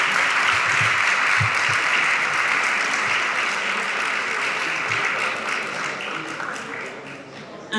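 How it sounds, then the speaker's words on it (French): A ceremony audience claps steadily for the whole stretch, a dense continuous applause that fades slightly toward the end, with a few low thumps underneath. "sous vos applaudissements, j'appelle le docteur Michel Théard."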